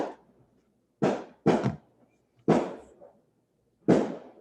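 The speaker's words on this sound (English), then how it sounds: "Fireworks." Fireworks going off outside: four sharp separate bangs at irregular intervals, each with a short echoing decay, loud but somewhat distant, with quiet between them and no talking.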